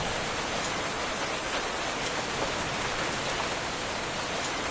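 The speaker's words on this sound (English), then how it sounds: "it's raining" Rain falling in the Minecraft video game, a steady, even hiss of rain on surfaces that continues without change and without talking.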